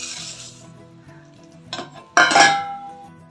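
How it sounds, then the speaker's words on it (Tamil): Flattened rice roasts in ghee in a pan; a few scraping stirs and clinks of a spoon against the metal, with a sharp louder scrape near the end, close and without talk. "வானலியில் வந்து கொஞ்சமாக கீ சேர்த்துட்டு இதை வந்து நம்ம பொன்னிறமாக வறுத்தெடுத்துக்கலாம்"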